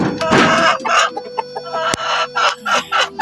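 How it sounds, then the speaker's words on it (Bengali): Egyptian Fayoumi chickens cluck close by in a series of short, sharp calls with brief pauses between them, and a louder crowing call comes early on. No one speaks. "এগুলো হচ্ছে আমার মিশরীয় ফার্মি মুরগি"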